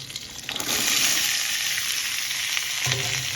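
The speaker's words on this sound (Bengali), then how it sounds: "পাঁচফোড়নের সাথে লঙ্কাগুলো আগে একটু ভেজে নিচ্ছি।" Green chillies fry with panch phoron spice seeds in a pan, building into a steady, close sizzle after a quieter start, with a brief louder crackle near the end and no talking.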